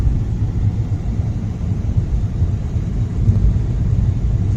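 Infiniti Q45 V8 cruising on the freeway with windows up, a steady low road rumble and engine drone heard from inside the cabin, continuous and moderately loud with no talk.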